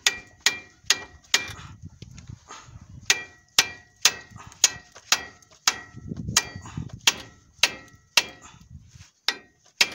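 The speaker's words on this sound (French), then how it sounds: "Je vais tapoter un peu avec le marteau." Repeated sharp metallic hammer taps on a Fiat Stilo 1.9 JTD front suspension arm (wishbone) being seated into place, about two dozen strikes in an irregular rhythm, close and clear with faint workshop background between blows.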